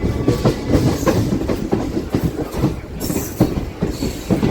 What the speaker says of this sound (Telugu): అలా ఎంటర్ అవుతుంది మన ట్రైన్.